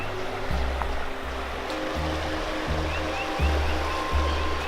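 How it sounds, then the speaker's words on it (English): The Shenango River rushes steadily past the upriver side of old Erie Extension Canal locks, a continuous moderate wash of flowing water with a low, rhythmic pulsing underneath. "give you an idea of the power of the river"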